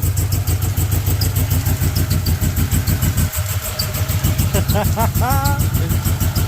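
An Edelbrock E-Force supercharged LS swap engine idles in limp mode after its codes are cleared, with a loud, steady, rhythmic pulsing close by and a brief dip partway through before it resumes.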